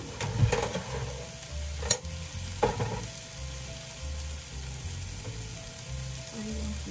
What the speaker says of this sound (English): The sausage over there cooking